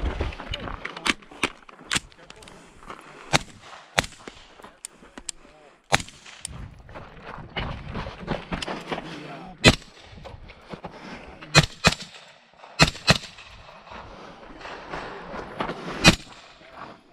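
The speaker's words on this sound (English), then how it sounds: "You have one chance using that stage gun to go ahead and get a hit on steel" Sharp gunshots from a stage gun crack out repeatedly at an action shooting match, some in quick pairs and others spaced apart, loud and near over a background of shuffling movement and outdoor noise.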